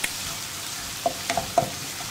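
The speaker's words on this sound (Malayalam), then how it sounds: "ഉള്ളിയൊക്കെ വഴറ്റുമ്പോൾ നമുക്ക് ഹൈ ഫ്ലെയിമിൽ വയ്ക്കാം" Crushed shallots sautéing in a pan over a high flame: a steady hiss of frying with a few sharp scraping taps of a spatula, close and moderately loud, with no talking.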